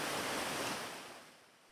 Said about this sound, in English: Behind me is a wonderful waterfall.